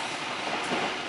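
Kutojaya Selatan passenger train rolls along the rails with a steady, broadband rumble and rattle heard from on board, continuous and fairly loud throughout.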